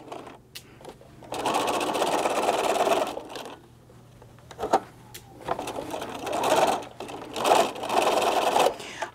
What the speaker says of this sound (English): We're going to come over to this side, and we're not sewing that much because this is the area where we're going to turn.